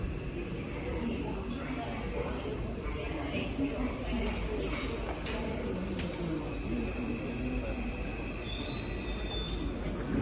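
An underground metro train on the Seoul subway rumbles steadily along with faint squeals from the wheels and rail, a low continuous drone heard from inside the carriage.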